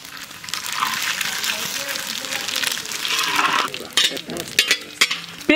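Whole cumin, bay leaves and coriander seeds sizzle steadily in hot oil for a village-style mutton curry, a close, continuous frying hiss with sharper crackles and stirring clatter near the end.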